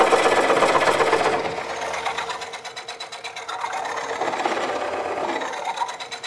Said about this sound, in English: I could hear then that it had picked up a loose shaving over the end.